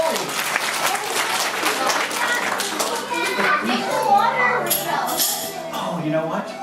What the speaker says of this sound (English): you guys give yourselves a round of applause for the gold